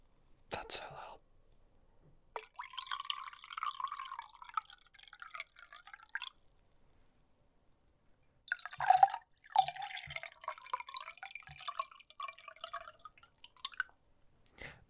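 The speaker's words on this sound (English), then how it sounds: "I'm starting to drip water" Water drips and trickles up close in two bursts of several seconds each, separated by near silence, with soft whispering nearby and a few small taps.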